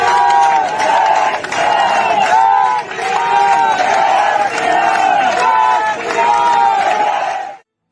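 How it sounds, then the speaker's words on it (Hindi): Protesters massed outside a police station chant Jai Shri Ram slogans loudly and continuously, a dense roaring crowd with rhythmic shouted phrases and clapping woven through. "तालियां बजा रहे हैं और फिर जय श्री राम के नारे लगा रहे हैं।"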